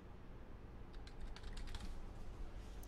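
Quiet, rapid clatter of keys on a computer keyboard as a search is typed into Windows 10, a brief burst of soft clicks over a faint background hiss.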